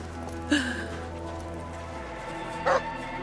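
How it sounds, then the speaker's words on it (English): Two short dog barks or yips in the Assassin's Creed Origins video game, about two seconds apart and moderately loud over a steady game ambience. "Don't tell me Anta is a dog."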